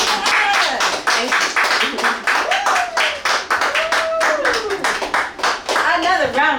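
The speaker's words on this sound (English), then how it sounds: "Another round of applause for Andrea." An audience applauds poet Andrea "Vocab" Sanderson after a wildfire-themed reading, sharp individual handclaps in an uneven rhythm close by, with a voice speaking over them.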